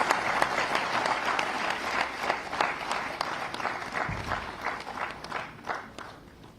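An audience at a Climate Change program event in Gandhinagar applauds to welcome the Chief Minister, sustained dense clapping from a crowd, steady and moderately loud throughout with no talk.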